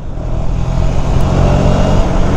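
A white Kia car passes on the road during a ride from Pune to Ujjain, its engine and tyre roar rising and holding loud and close as it goes by, with no talk.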